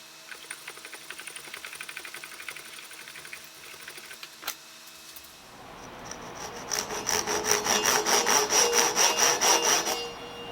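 Crosscut hand saw cutting a Catalox banjo nut blank: a few light scraping strokes at first, then steady, louder rhythmic back-and-forth sawing that builds in the second half, close up and alone.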